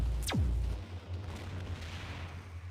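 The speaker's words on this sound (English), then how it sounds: "You can pull out your EMP rifle, see how much damage that actually does to it" An EMP rifle firing in System Shock 2, a single loud electronic discharge with a sharply falling pitch, followed by a low steady hum and muffled rumble.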